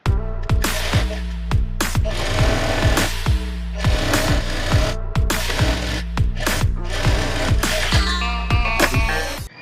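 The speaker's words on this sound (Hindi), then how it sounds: "यहाँ पर तिरछे में सिलाई लगानी है, फिर आपको सीधी सिलाई लगानी है" Sewing machine stitching the strap of a wrap blouse, loud close bursts of rapid mechanical stitching separated by short pauses and repeated knocks, no talk.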